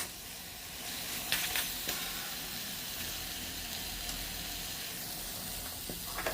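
Bhaji frying in a pan for an Assamese rohu fish lunch gives a steady close sizzle and hiss throughout, with a few brief louder crackles and spatters along the way.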